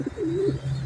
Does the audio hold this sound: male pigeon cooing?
yes